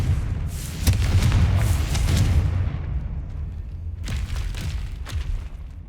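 A Confringo fire spell from Hogwarts Legacy bursts with a loud boom, followed by a rumbling roar that fades, then a second, smaller crackling blast near the end.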